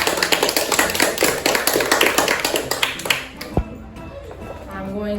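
Classroom audience applauding after a sixth-grade student's how-to demo on changing a two-wheel-drive tractor tire: dense, steady clapping from many hands for about three and a half seconds, then it tapers off into room noise.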